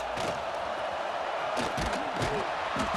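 Stadium crowd roaring steadily in a college football video game, a dense wash of cheering and whoops from a large crowd that stays loud throughout, with faint calls above it.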